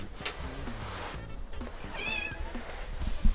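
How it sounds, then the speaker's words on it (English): A cat meows a few times, nearby and fairly clear, with a rising whiny call in the middle over faint room noise. "Meow."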